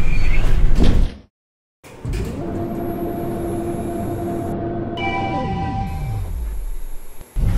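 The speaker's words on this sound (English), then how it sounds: "Door closing." An elevator's sliding door closes in a game store setting: a steady mechanical whir with a sustained hum that holds, then glides downward in pitch as the door finishes moving, with no talking.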